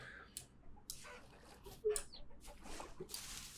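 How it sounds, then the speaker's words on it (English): Chickens clucking, faint, scattered short calls rising over a quiet background in the Vintage Story game, soft and somewhat distant. "excuse me, those chickens distracted me."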